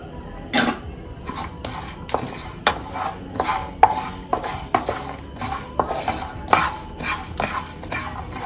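Spices, including poppy seeds, are dry roasted in a pan, heard as a steady run of metallic scrapes and clinks from stirring, close and moderately loud, with no talking.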